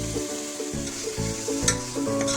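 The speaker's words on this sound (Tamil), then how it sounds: "இப்போது கழுவி வச்ச கொத்துக்கறியை அதோடு சேர்த்துக்கலாம்." Washed minced meat goes into a hot pan of softened onions with turmeric and sizzles loudly, with stirring clatter and scraping bumps breaking through the steady frying hiss.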